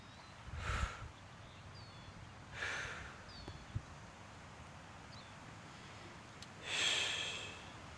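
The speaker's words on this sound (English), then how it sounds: "Breathing deeply." Three deep, airy breaths, each a soft rushing exhale, spaced a couple of seconds apart during a quad stretch in a hip flexor follow-along workout. They are close and fairly quiet, with no talking.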